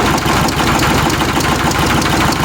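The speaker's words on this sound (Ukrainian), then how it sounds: "Завів його стартер. Він став тихіше робити." A diesel engine with early injection timing runs loud and close after being started on the starter, a dense knocking rumble with a steady rhythmic pulse.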